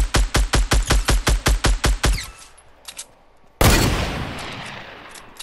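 Gunfire in the Fortnite video game: a rapid rhythmic burst of about ten loud shots, a short lull, then a single heavy blast with a decaying rumble.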